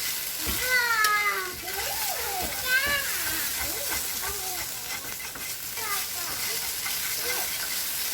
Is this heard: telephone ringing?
no